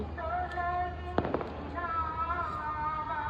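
A firecracker goes off with a sharp close bang followed by a short crackling burst, heard under ongoing voices and a steady low background hum.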